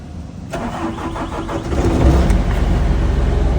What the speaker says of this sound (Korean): 아 엔진 소리 너무 좋네요.